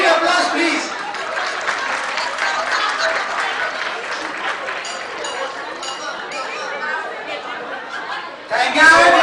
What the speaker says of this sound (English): Can we have a thundering applause